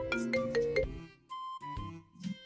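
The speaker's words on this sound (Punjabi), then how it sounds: "ਪਾਪੇ ਦਾ ਫੋਨ ਆ ਗਿਆ" A mobile phone rings with an incoming call, playing a melodic ringtone of clear repeated tones that rises and pauses over a couple of seconds, close and fairly loud, heard alone.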